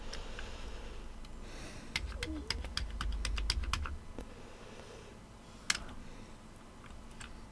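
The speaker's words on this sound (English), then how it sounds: "just for fun, we can check the keyboard" Keys clatter on a C64 keyboard hooked up to THEC64 Mini, a quick run of crisp, close clicks in the middle followed by a few isolated presses against a quiet background.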